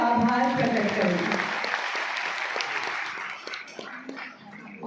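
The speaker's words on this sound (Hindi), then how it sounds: "एक बार पुनः मैम का जोरदार तालियों से आभार प्रकट करें" A ceremony crowd in Ranchi applauding, clapping that starts strong under a voice and gradually thins and fades toward the end.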